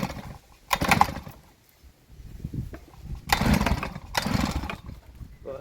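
A 52cc rotary tiller's small two-stroke engine revs in loud uneven bursts, rising and falling several times between quieter idle stretches, heard close up.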